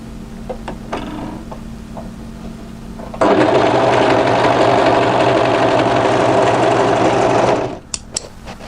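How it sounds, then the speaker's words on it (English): An overlocker serger runs fast through fabric on a coatigan band, its quiet idle giving way to a loud, steady whirring stitch lasting several seconds before stopping, followed by a few small clicks. "And overlock that to secure it."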